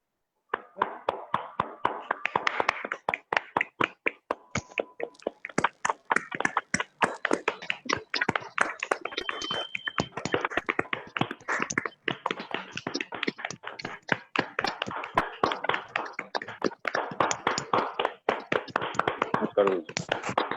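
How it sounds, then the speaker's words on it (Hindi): Loud, continuous applause from a large audience welcoming company leader Anil Kudi on stage at an Asclepius Wellness Private Limited event, dense clapping sustained throughout with a few louder bursts. "एक जोरदार तालियों के साथ अनिल सर आपका स्वागत करते हैं"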